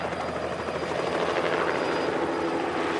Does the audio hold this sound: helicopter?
yes